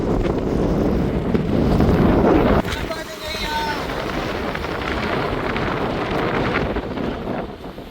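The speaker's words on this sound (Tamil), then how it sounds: "காற்று தான் நல்ல பலமாக அடிச்சு கொண்டு வந்து நடக்க கூட முடியலை." Strong wind blowing hard at the seaside, a roaring broadband rush buffeting the microphone throughout, loudest in the first few seconds, with waves and talk mixed underneath.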